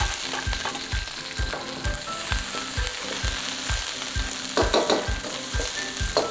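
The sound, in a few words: stir-frying green peppers in a wok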